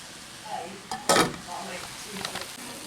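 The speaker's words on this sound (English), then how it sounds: "I'm going to stir that all up and keep it on that medium heat" Soya chunks stirred in a paella pan over medium heat for a vegan Spanish paella, a faint soft sizzle broken by a few spoon scrapes and one sharp clatter against the metal pan.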